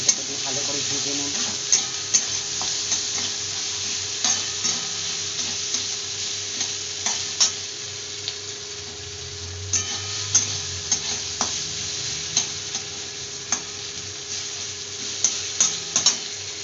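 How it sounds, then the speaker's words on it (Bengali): Ginger paste fries in an oiled pan with a continuous close sizzle, while a spatula scrapes and taps the metal at regular intervals as it is stirred. "একটু আদা পেস্ট দিয়ে দিলাম, এটাকে দিয়ে ভালো করে ভেজে নেব"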